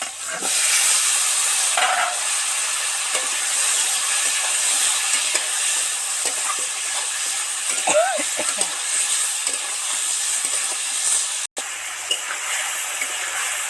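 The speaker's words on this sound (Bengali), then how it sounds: "আলুগুলো তো একদম ছাঁকা তেলে সব সব করে একদম ডিপ ফ্রাই করে ভেজে নিলাম" Potatoes deep frying in hot oil, a steady bright hiss and sizzle close by, with faint brief voice sounds now and then.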